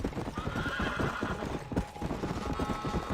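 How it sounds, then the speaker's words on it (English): A zombie horse in a video game gallops with steady, rapid hoofbeats and lets out a loud whinny, clip-clopping continuously and close by throughout. "because you have a zombie horse and it's not alive."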